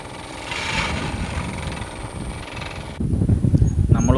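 A boat engine drones continuously with wind buffeting the microphone, its rumble growing deeper and louder in the last second or so.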